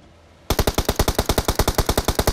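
Rapid automatic gunfire in PUBG Mobile, a fast, steady burst of about sixteen loud, evenly spaced shots that starts abruptly after a quiet moment.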